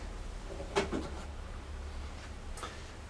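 The small front door of a DeLonghi coffee machine being shut: a soft, brief plastic click, then a second fainter tap, over quiet room hiss.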